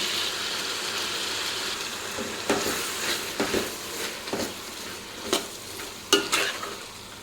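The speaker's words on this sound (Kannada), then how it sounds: "ಈಗ ನಾವು ನೈಸಾಗಿ ರುಬ್ಬಿಟ್ಕೊಂಡಿರುವಂತಹ ಮಸಾಲೆನೂ ಕೂಡ ಇದರೊಳಗಡೆ ಹಾಕ್ಬಿಟ್ಟು ಮಿಕ್ಸ್ ಮಾಡಿ" Ground masala being stirred into softened tomatoes frying in a pan for vegetable pilaf, with a steady low sizzle and a handful of scraping spoon strokes rising above it at intervals.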